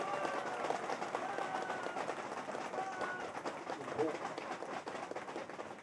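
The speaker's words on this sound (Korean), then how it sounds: "박수로 환영해 주세요" Audience applause welcoming a National Assembly member at a Gangdong-gu community rally, steady dense clapping from a crowd that holds through the clip, with a voice briefly heard over it.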